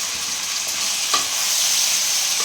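Potatoes sautéing in a pot of Bengali chicken curry give off a steady, close broadband sizzle with light stirring and a single utensil clink partway through.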